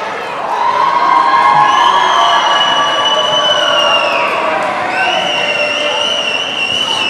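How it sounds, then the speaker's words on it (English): A large crowd at a wrestling show roars and cheers wildly, a dense, loud, sustained wall of voices with high whistles and screams rising through it for several seconds. "Crowd absolutely going nuts."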